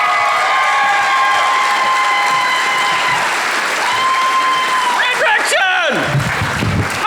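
A comedy club audience in Fredericton whoops, cheers and applauds a comedian's entrance, loud sustained clapping with high shouts and whistles throughout, ending with a host's voice over the noise.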